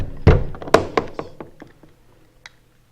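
A case being opened, a few hollow thunks and knocks in quick succession, loudest at first and then trailing off into lighter taps, close by.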